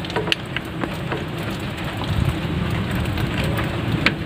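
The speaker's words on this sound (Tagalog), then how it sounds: "So pasensya na kayo guys, kumukulog, no, dahil" Steady rain patters close by while thunder rumbles low underneath, with scattered sharper drops and no voices.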